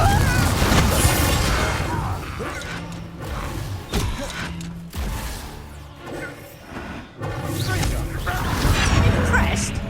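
Confringo blasting spells from Hogwarts Legacy go off in a busy fight, several booming bursts and crashes in quick succession amid whooshes and in-game voices.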